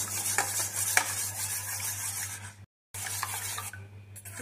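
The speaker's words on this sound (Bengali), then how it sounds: "এখন এইগুলো দিয়ে ডিম দুটোকে ভালো করে ফেটিয়ে নেব।" Two eggs with salt and pepper being beaten in a bowl, a close, rapid scraping and clinking of utensil against the bowl that continues steadily, with a short pause before it resumes.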